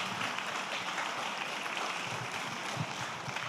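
Audience applause at the FED Lucca 2025 event fills the room with a steady, dense wash of clapping that stays loud and even throughout, with no voices rising above it.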